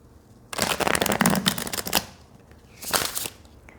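Stiff playing cards are riffled and shuffled close up in two crisp, rattling bursts, a longer one followed after a pause by a shorter one, with quiet room tone between.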